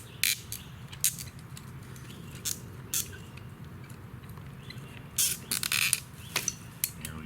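Cutting old sprinkler irrigation pipes during a valve repair, heard as a series of sharp clicks, snips and creaks scattered irregularly over a quiet outdoor background, close and moderately loud.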